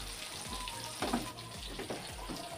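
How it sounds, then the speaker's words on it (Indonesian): Shrimp paste (terasi) frying in a pan, a steady close sizzle with soft crackles and occasional louder spits, heard alone. "ini aku goreng lagi terasinya."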